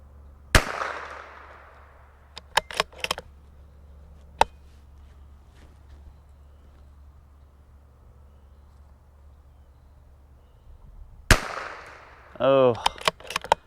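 A .22LR CZ 457 precision rifle in a KRG Bravo chassis fires at an outdoor range, giving sharp, close cracks: a single report near the start, another a little before twelve seconds, and clicks of bolt handling in between.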